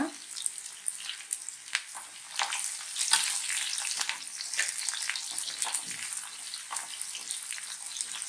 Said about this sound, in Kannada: ಎರಡು ಮೀಡಿಯಂ ಸೈಜ್ ಈರುಳ್ಳಿ ಉದ್ದು ಕಟ್ ಮಾಡ್ಕೊಂಡಿರೋದು ಫ್ರೈ ಮಾಡ್ಕೊಳ್ಳೋಣ.